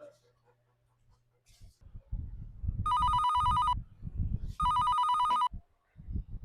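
A telephone rings twice in long electronic bursts while calling a cousin, loud and close, with people talking underneath and between the rings.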